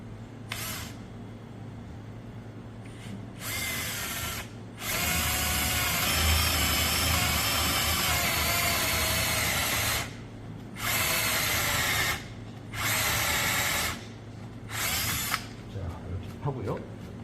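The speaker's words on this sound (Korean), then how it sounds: "본드를 치기 어려울 때는 그대로 드릴로 뚫어서 그 다음에 몸체를 하나로 만들어주면 되겠습니다" A power drill whirs in several bursts while boring into wood on a chair, one long run then shorter pulses with brief pauses between, close and loud.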